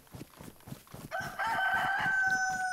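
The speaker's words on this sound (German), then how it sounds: "Zombie-Huhn." A zombie chicken in the DayZ video game crows loudly in a long, strained cock-a-doodle-doo, set over a steady rhythmic thumping pulse from the game.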